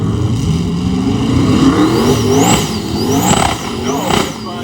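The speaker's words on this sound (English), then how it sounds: "Chevelle on big tires." A Chevelle drag car on big tires accelerates hard at a drag-racing event, its loud engine rising through the gears with a rough roar, up close, over a crowd and the drone of a public-address system.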